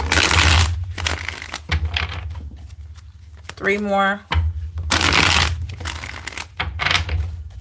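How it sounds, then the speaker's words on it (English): A deck of tarot cards is shuffled in loud, close riffling bursts, with a short spoken remark in a pause between them. "Let's get 4 more shuffles here."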